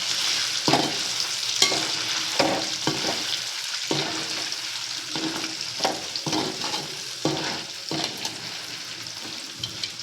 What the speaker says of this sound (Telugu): మళ్ళీ ఇంకొంచెం ఇలా అన్నీ వేపుకుందామండి